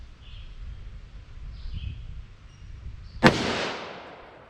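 A single sharp gunshot from a revolver firing heavy .327 or .357 Magnum Buffalo Bore ammunition cracks out near the end, loud and close, trailing into a short outdoor echo after quiet background hiss.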